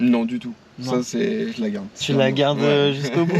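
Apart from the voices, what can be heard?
No distinct noise like a dog, phone or traffic.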